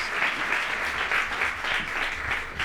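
Steady applause from a conference audience welcoming a business speaker, a dense, even wash of clapping filling the room with no voices on top.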